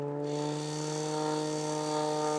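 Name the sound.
fuel pump refuelling a helicopter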